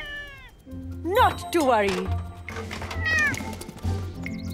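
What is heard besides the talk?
cat meowing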